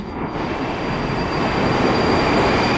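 Modern Moscow metro train on the Central Circle Line running steadily, a dense continuous rumble of wheels and rails that swells slightly louder toward the end, with no voices.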